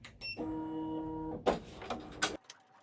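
An embroidery machine sews a satin fill along the top roof of a quilt block. A steady buzzing hum is followed by a few sharp mechanical clacks and whirs, close and moderately loud.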